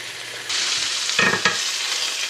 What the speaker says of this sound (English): the pan has time to heat up and fully sear the outside of these pork tenderloins